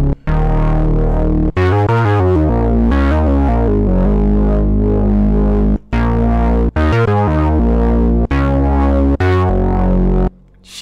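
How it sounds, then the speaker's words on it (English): A breadboard synthesizer plays a loud, distorted tonal sequence with an LFO wobbling its filter, the timbre sweeping rhythmically and notes cutting off in short gaps, with no talking. "Bring in that LFO again to put some wobble on the filter."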